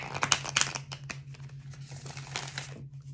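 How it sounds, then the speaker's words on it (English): A deck of oracle cards is shuffled by hand, giving close papery riffles and crinkly flutters in irregular bursts over a low steady hum. "Let's shuffle once more."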